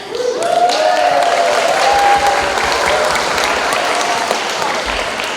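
A theatre audience at a school's Newsies Jr. performance breaks into loud, sustained applause for the show's sponsors, a dense wash of clapping with a voice briefly heard through it.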